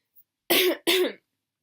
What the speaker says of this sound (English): I've been coughing a lot though